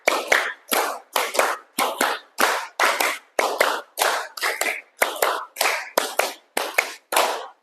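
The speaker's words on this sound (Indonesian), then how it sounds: "tepuk tangan untuk kita semua" A group of students in a classroom claps in steady, repeated bursts of sharp hand claps, loud and close, with short pauses between rhythmic sets.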